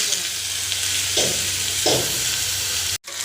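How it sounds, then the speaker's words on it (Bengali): Neem leaves fry in a generous amount of hot oil, a steady close sizzle marked by two soft stirring scrapes, then a brief cut to silence near the end. "নিম পাতাগুলো আমার ভাজা হচ্ছে একটু বেশি করে তেল দিয়ে নিম পাতাটা ভাজছি"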